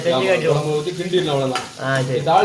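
Loud, steady sizzling and bubbling with a stirring clatter, as hot tempering with curry leaves is poured into sambar, continuing for a couple of seconds with a few sharp pops.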